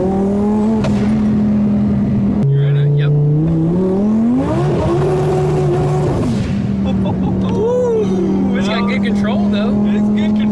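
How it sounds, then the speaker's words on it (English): A 2020 Cadillac CT5-V on dry summer race tires accelerates hard, its engine droning loud and close, climbing in pitch toward the rev limiter in first and second gear, with shifts between; voices talk over it. "That was rev limiter in first, second gear, dude."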